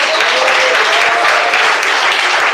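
A church congregation bursts into loud, sustained applause during a service, thick continuous clapping from many hands, close and steady throughout.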